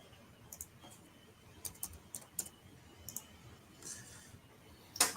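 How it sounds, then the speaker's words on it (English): Computer keyboard typing comes in irregular bursts of light clicks and taps, fairly close and quiet, with short pauses between the runs of keystrokes and a louder clack near the end. "I'm just like typing up Critical K"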